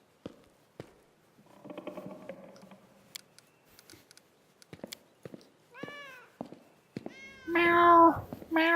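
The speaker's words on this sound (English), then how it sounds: "Meow, meow." Cat meows in the Pathfinder Kingmaker video game, several short mews spaced among clicks and small taps, then a louder, drawn-out yowl near the end.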